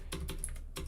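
Quick bursts of computer-keyboard typing, about four clusters of key clicks in under a second, close and crisp with no voices.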